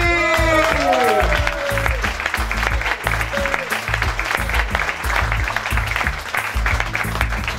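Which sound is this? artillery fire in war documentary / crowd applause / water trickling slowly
crowd applause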